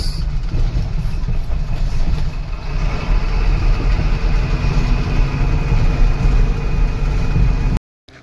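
An old Mahindra commercial SUV engine runs at a steady idle, a dense low rumble holding constant and fairly loud throughout before cutting off abruptly near the end.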